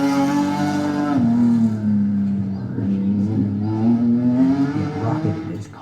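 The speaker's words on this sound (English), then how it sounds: "it crossfades out to the sound of a race car racing along" A race car speeding along as a sound effect, its engine tone holding a steady pitch, dipping and then rising again under a continuous, close roar that fills the whole clip.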